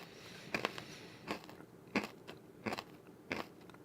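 Close, loud crunching bites into light, air-fried chips, five sharp bursts spaced roughly every half to one second with quiet pauses between, no talking.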